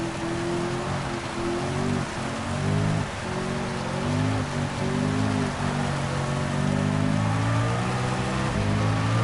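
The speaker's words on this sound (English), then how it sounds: "Look at this rain, it is just absolutely awful." Heavy rain during a Gran Turismo 7 race, a constant dense hiss of rainfall over droning car engines that rise and fall in pitch as the car drives, heard partly from the interior view, with no talk.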